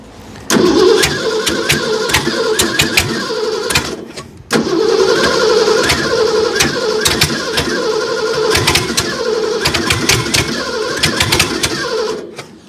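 A small engine on a tractor is cranked with a slight choke, giving two long bursts of rough, rattling pull-start churning with sharp clanks, separated by a brief pause, close and loud with no talk.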